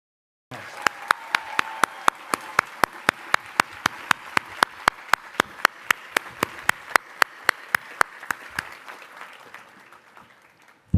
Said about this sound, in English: Let's give them an enthusiastic round of applause.